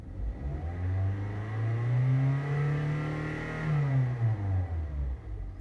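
A car engine is revved to 4,500 rpm while an Autometer Sport-Comp silver tachometer is tested. The pitch climbs, holds and sinks back in one smooth, loud, close sweep, with no talk.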